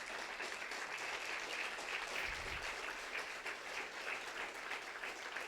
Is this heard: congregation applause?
yes